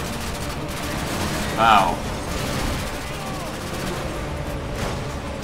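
Sustained gunfire in Call of Duty MW2 rattles along beneath a player's excited voice, with a loud burst standing out partway through.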